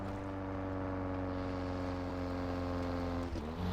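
Car being driven in the video game Far Cry 3, a continuous loud engine drone with layered steady tones that wobble and drop briefly near the end as the vehicle lurches.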